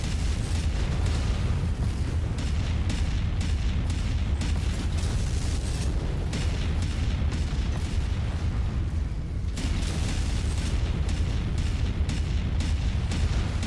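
MechWarrior 5 battle: mech weapons fire continuously, with dense booming explosions and rumbling impacts that stay loud and close throughout, briefly thinning around the middle before resuming.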